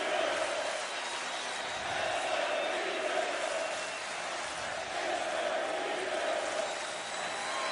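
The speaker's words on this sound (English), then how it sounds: "Crowd chanting the name of Jason Peters" Football crowd at an Eagles game chanting a player's name, a broad, steady roar of many voices swelling and easing in waves from a distance.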